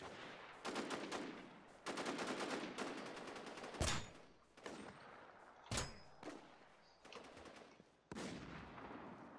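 Rapid gunfire in the zombie survival game Infestation The New Z, with repeated bursts of shots and a few sharp single cracks between short pauses, loud and close.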